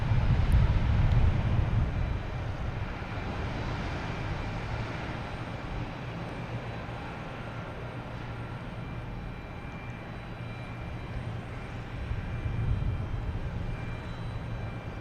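A jet airliner spools up and rolls for takeoff at Boston Logan Airport, a steady broadband engine roar, loudest at the start and swelling again near the end, with no voices.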